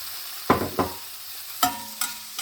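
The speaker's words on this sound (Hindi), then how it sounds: "3-4 मिनट हेगला मु एबे कैप्सिकम पकोछि" Capsicum stir-frying in a pan with onion and carrot for Thai-style tofu vegan fried rice, sharp spatula scrapes landing in a loose rhythm of about five strokes over a soft sizzle, close and without talk.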